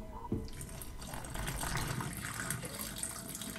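A large amount of water poured down a bathroom drain, a steady broadband rush and splash that runs continuously for a few seconds at close range with no talking.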